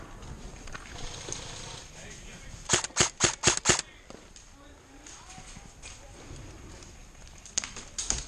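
Airsoft guns fire in a burst of about six quick, snappy pops during an outdoor skirmish, with a few fainter shots later and people talking and moving around throughout.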